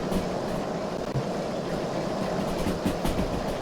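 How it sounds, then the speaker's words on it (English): A steam train in the simulator game Derail Valley gathers speed with a dense, continuous rumble and rolling rail noise that holds steady and close, with no voices. "And I can hear the train speeding up there."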